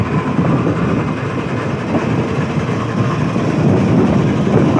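A GEU 40 diesel locomotive idles at Sanawan station, giving a loud, steady low rumble that holds throughout without breaks.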